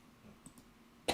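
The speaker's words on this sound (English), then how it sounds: "I'm still coughing." A single short, sharp cough bursts out near the end after a few faint clicks, close and fairly loud against a quiet room.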